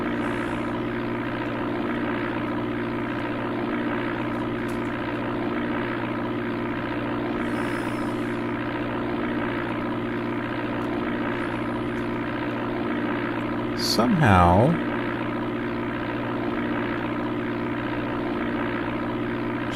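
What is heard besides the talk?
propeller plane engine in Amiga game Flight Simulator II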